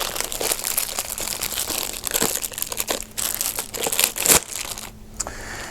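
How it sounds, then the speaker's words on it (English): Crinkly plastic bag holding a Breathatex asthma spacer being ripped open by hand, a near, continuous run of crackling and crumpling with a few sharper tearing bursts, no talking. "So when you open it, it's inside a bag. So I'm going to rip that open."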